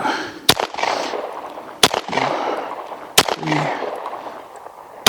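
9mm pistol shots fired into a self-healing target: four sharp, loud reports spaced roughly a second and a half apart, with a ringing tail after each.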